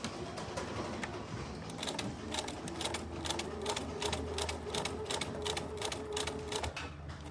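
A sewing machine stitches a tote bag with French seams, its needle tapping in a fast, even mechanical rhythm up close, alone and steady throughout.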